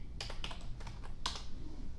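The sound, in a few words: typing on a computer keyboard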